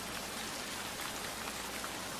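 Heavy rain pours steadily as an even, hissing wash of drops with no pauses or voices, soft in level and continuous from start to end.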